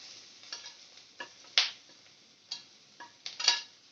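A spatula scrapes and taps against a pan while onion and kurdai sauté, with soft sizzling under a string of separate metallic strokes spaced about half a second apart.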